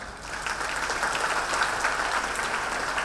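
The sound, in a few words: audience clapping at a Rotary event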